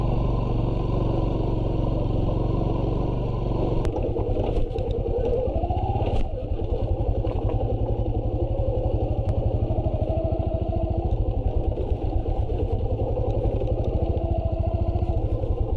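A motorcycle engine runs near a historic Dutch colonial-era water siphon in Sukabumi, first a smooth riding drone, then a slower throbbing idle with clattering pulses as the bike is brought to a stop and parked.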